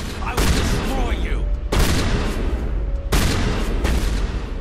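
Shotgun blasts in the Mass Effect video game, three loud booming shots spaced roughly a second and a half apart over continuous gunfire and battle noise.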